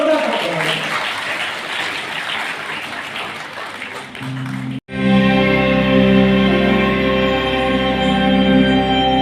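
A seated crowd of young people at a World Water Day event claps steadily for about four seconds, then the applause cuts off sharply and loud, sustained music takes over.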